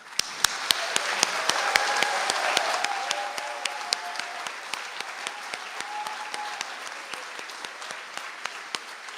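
A graduation conferring ceremony audience applauds nursing graduates, a round of clapping that starts full and then thins into scattered, sharper individual claps in a large hall.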